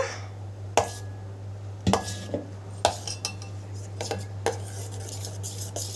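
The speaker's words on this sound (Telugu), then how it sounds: "మనం చిటికంత ఉప్పు మళ్ళీ కలిపేసుకోవాలి." A spoon stirs oats dosa batter with a pinch of salt in a bowl, making irregular sharp clinks and scrapes against the bowl over a low steady hum, with no talking.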